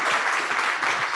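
Applause from a tech meetup audience at Talkabot ATX, a steady round of clapping filling the room for about a second, fairly loud and even.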